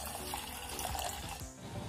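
Water poured from a tap into soaked dal for daal makhani, a steady running and filling sound throughout, close and fairly even with a brief dip in flow near the end.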